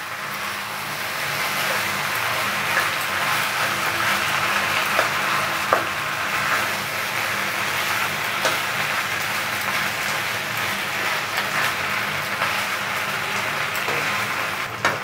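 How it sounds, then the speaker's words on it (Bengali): Boiled pasta with vegetables being stirred in a hot pan for Indian-style pasta, a steady close sizzle and hiss of frying with faint scraping and occasional clicks of the utensil against the pan throughout. "বয়েল করা পাস্তাটা অ্যাড করার পর আমি নাড়াচাড়া করছি।"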